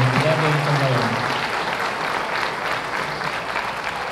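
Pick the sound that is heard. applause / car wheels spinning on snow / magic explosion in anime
applause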